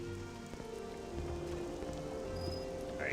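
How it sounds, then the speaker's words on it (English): Rain falling in the video game Morrowind, a steady soft patter of drops on surfaces, fairly faint and continuous with no talk over it. "Oh, and it's raining again."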